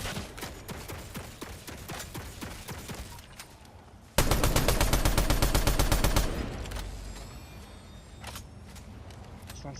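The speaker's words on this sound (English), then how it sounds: "they got bloody turrets and everything" Turrets open fire in a video game: scattered shots, then a dense, loud two-second burst of rapid automatic fire, followed by more sporadic shots.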